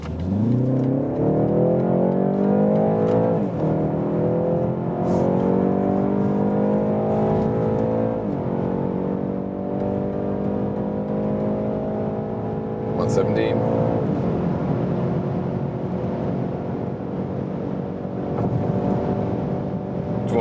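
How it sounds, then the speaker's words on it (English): A BMW 330i in sport mode accelerating hard from about 40 km/h, its engine note climbing steadily through the gears for around twenty seconds, heard loud and close from inside the cabin. "Now to the BMW 330i, we put it to the sport mode."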